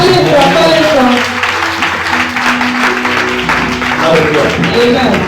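A church congregation clapping and cheering in acclamation to God, a dense sustained wash of applause under a loud preacher's voice and sung or chanted tones.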